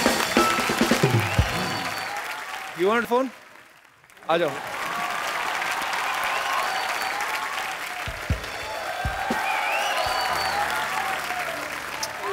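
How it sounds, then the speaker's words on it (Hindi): Studio audience on a Hindi television comedy show claps loudly, a broad sustained applause that runs almost throughout, briefly dipping once, while people talk and call out over it. "एक बार रणबीर अनुष्का के लिए जोरदार तालियां"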